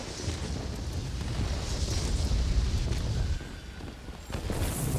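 A heavily armored ground target is blown apart in World of Warplanes, a sustained deep, rumbling explosion roar with crackling debris that swells for several seconds, dips briefly, then continues under the aircraft engine drone.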